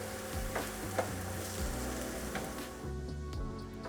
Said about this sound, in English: we're gonna start off adding our garlic, our shallots, and our ginger. And we're gonna cook these for about 2 to 3 minutes